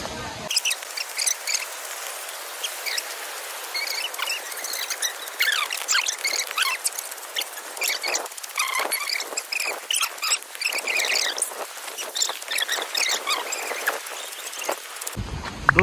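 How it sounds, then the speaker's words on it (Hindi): Heavy rain pours down at Matheran hill station, a dense, steady hiss of drops and patter filling the whole stretch with no talk, close and continuous until it cuts off near the end. "अभी बारिश हो रही है बहुत ही तेज़ी से"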